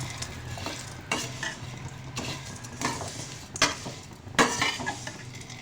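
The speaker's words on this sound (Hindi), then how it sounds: "इसी घी के अंदर ये जो सेवइयाँ हैं हमारी, अब हम इन्हें भून लेंगे" Vermicelli roasting in ghee in a pan over a low flame, with a soft steady sizzle under repeated scraping and stirring strokes and occasional light clinks of a utensil against metal.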